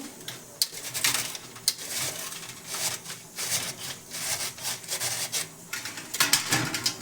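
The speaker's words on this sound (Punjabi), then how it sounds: "ਕੱਦੂਕਸ਼ ਇਸ ਤਰੀਕੇ ਦੇ ਨਾਲ ਕਰਨਾ ਹੈ ਦੇਖੋ ਇਦਾਂ" Potatoes are grated on the medium side of a hand grater into long strands for a lachha namkeen snack, making quick repeated rasping strokes in an uneven rhythm, close and fairly loud, with no talking.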